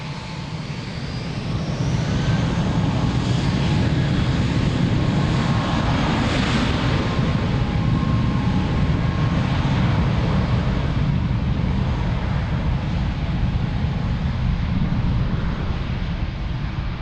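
A fixed-wing airliner takes off from Lisbon Airport, its jet engine roar swelling within the first seconds to a loud, sustained rumble that holds steady as it climbs, with no talk.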